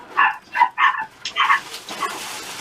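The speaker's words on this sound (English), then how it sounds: "And I hear the dogs." Several dogs bark in a string of loud, close woofs and yips in a home, with a brief whimpering tail at the end and no talking.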